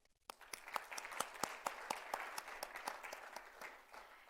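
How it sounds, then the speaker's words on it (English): A conference audience at a construction leaders event in Saudi Arabia claps for panelists and a keynote speaker, with a dense, even wash of applause and crisp individual claps that starts suddenly and holds steady. "let's give a big round of applause to all our panelists and our keynote speaker this morning, ladies and gentlemen."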